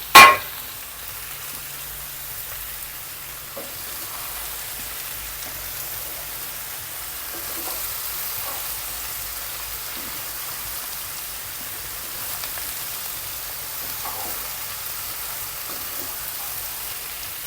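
Chopped potato and ridge gourd dropping into a hot pan, a sharp clatter at the start followed by a steady, soft, hissing sizzle that carries on alone with faint occasional pops.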